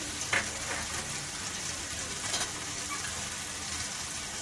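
Four or five chopped green chillies sizzling in hot frying oil for stuffed eggplant: a faint, steady crackling hiss with a few soft pops, no voices.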